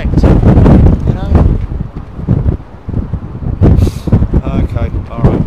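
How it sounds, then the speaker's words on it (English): Strong wind buffeting the microphone at London Heathrow Airport, heavy close gusts roaring in bursts over one another, with people talking underneath throughout. "It's a windy day."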